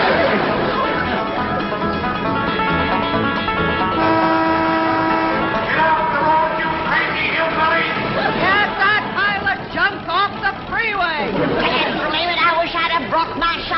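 Car horns honk repeatedly on a busy freeway in a 1963 TV comedy, the toots layered over traffic and voices talking.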